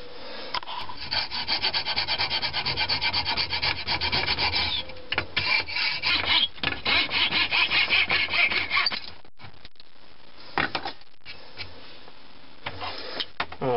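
Hand saw trimming a wooden katana part flush with the surface: close, steady back-and-forth rasping strokes for about nine seconds, then a few short, hesitant strokes and scrapes with pauses between them.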